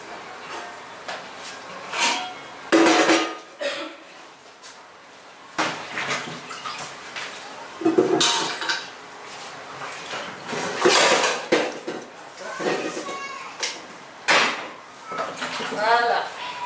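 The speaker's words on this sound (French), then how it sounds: "je vais le mettre dans la casserole" Washed plantain placed piece by piece into a cooking pot at home: repeated clattering knocks and thuds of fruit against metal in irregular bursts, with dripping water and someone speaking in between.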